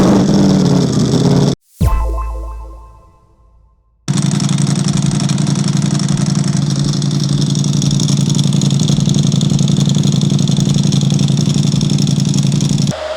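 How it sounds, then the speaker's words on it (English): A 2025 Ducati Panigale V4 idles after an oil change, a loud, steady, close engine drone. It cuts out briefly near the start with a fading whine, then settles back into an even idle with no talking. "Now we just have to let the bike run for at least 5 minutes"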